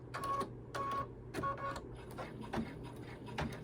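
A sewing machine runs in short repeated bursts, a mechanical whirring and rattling rumble with brief pauses, close and fairly quiet.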